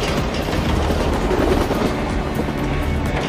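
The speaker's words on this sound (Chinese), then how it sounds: "得知二凤袭来，老大命令手下把火车分离。" In an action film scene, a moving train gives a loud, dense rumble of wheels and carriages with faint rhythmic clatter, continuous throughout the short stretch.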